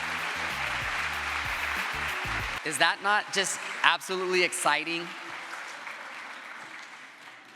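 Applause for the Board of Trustees fills a Long Beach City College State of the College gathering, then fades as a speaker's voice takes over and the clapping trails off beneath the talk.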